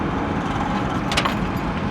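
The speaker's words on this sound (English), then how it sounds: "car to my left doesn't sound very happy. What is that sound?" A nearby car runs with a rough, unhealthy-sounding engine, producing a steady low rumble and broadband noise from close beside, with a brief brighter clatter partway through.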